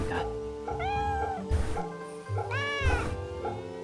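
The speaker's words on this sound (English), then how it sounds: "We can pet the cats here." Cats meowing repeatedly as they are petted in the Fate/Samurai video game, several clear rising-and-falling meows close up over soft game background music.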